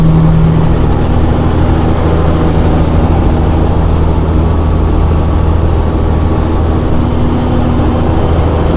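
A Kenworth truck rumbles past loud and close, its engine drone steady throughout with a sustained high whine running over the top and no voices.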